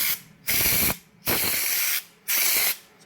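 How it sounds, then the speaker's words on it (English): An air spray gun blasts white Gravitex coating onto cardboard in three loud, even hissing bursts of about half a second each, separated by short gaps, with no talking. "Just giving us a bit of spray on this cardboard here,"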